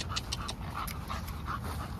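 A bully breed puppy pants in quick rhythmic breaths close up, with thin intermittent whimpers rising over the panting and no talk.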